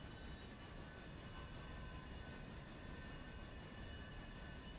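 A train's wheels squeal against the rails in a steady, loud metallic screech, broad rolling rumble underneath, continuous throughout with no pauses.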